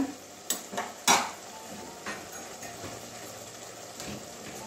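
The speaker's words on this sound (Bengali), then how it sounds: "এরকম মাছগুলো একদম গোটা গোটাই আছে, হালকাভাবে নাড়িয়ে দিচ্ছি।" Gentle stirring of whole kachki fish in a pan of mustard curry, with a few distinct utensil scrapes and clinks against the pan, one sharper knock standing out, over a quiet background.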